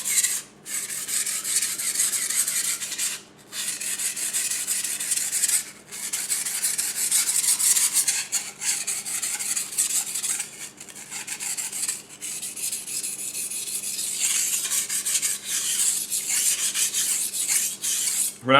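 Steady abrasive rasp of a knife edge pushed back and forth over a Naniwa 8k Snow White whetstone, repeated close strokes with brief pauses between passes.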